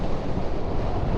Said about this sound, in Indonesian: Angin lumayan kencang.